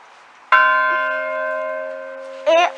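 A single church bell at Voltorre, Italy, one of a set of three, strikes once and hums with a long, slowly fading resonance, followed near the end by a short burst of a second, brighter ring.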